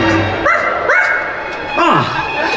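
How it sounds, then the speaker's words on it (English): A dog yips and whines several times at a Halloween show on a Disney cruise, high rising barks standing out over a loud, sustained musical background. "Where is that dog?"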